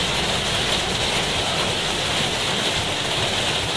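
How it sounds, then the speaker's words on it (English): Steady, dense hiss of rain pouring down, constant and loud without any pause. "Sorry about the rain"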